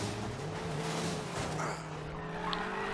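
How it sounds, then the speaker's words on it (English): Tires squeal as a BMW X6 M drifts in Need for Speed Payback, with a steady engine drone and faint scrubbing noise running throughout the short stretch. "let's start trying to do a bit of that drift"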